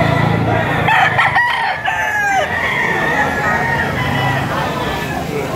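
A stag gamecock crows loudly and close at a rooster sale in Padre Garcia, Batangas, with a long rising and falling call over crowd babble and someone talking.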